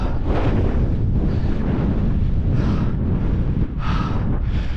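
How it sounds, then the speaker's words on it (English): Strong gusting wind on an open fell, roaring hard across the microphone as loud, constant buffeting that surges in bursts, with no talking. "The wind's gusting, you can see it's blowing the clag"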